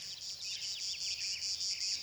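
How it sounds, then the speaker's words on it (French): A steady, shrill insect drone with rapid pulsing chirps layered on top, continuous and fairly loud, like cicadas buzzing in summer heat. "l'incessant chant des cigales se mêle au bourdonnement du peuple pollinisateur"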